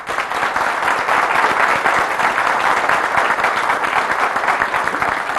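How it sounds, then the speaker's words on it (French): A studio audience on a televised health show applauds a young contestant, loud dense clapping sustained evenly across the whole stretch without talk. "Mariam Fall, 17 ans, on l'applaudit."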